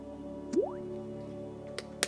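A single drop of water falls into varnish being thinned for painting a miniature, one soft close plip followed by a couple of faint ticks in a quiet room.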